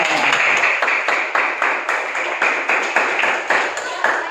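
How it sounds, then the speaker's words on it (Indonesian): Primary school class clapping together in a classroom, a rhythmic, fairly close group clap with regular beats, recurring roughly every third of a second and continuing steadily. "Oke, tepuk tangan kita semuanya."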